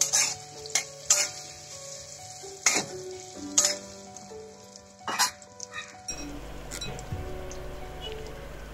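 Soy chunks and potatoes frying in a pan, with a few loud clanks of a utensil against the pan and then a rising, steady close sizzle.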